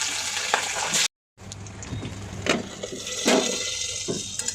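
Thin fish belly pieces frying in oil, a close, fairly steady crackling sizzle with a brief cut in the middle and a few sharper spatters, no voices.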